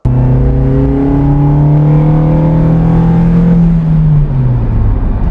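Suzuki Jimny engine fitted with a BMC air intake and ECU remap revving loudly and steadily for several seconds, the pitch holding high then dropping off near the end, with strong intake drone and no talking.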